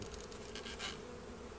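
Honeybees swarm over an open medium hive frame of brood, honey and pollen, filling the air with a close, dense, continuous buzz that swells briefly in the middle.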